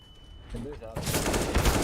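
Gunfire in the Valorant video game starts as a dense, loud burst of rapid shots after a short quieter stretch, with a voice speaking briefly just before it.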